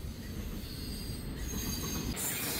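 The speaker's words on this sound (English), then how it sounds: "An Amtrak." An Amtrak train rolls past with steady rumble and high, sustained wheel squeal, fairly close and continuous, no voices.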